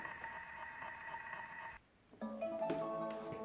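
A Thermomix timer beeps after cooking caramel sauce, a bright tonal signal sounding alone and fairly close in a quiet kitchen, following a steady appliance hum that cuts out.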